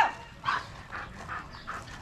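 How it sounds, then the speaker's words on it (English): An aggressive dog barks in a string of about five sharp, close barks at an uneven rhythm, with panting and whimpering between them. "She's a very aggressive dog."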